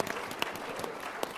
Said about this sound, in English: Can we get a round of applause for this man?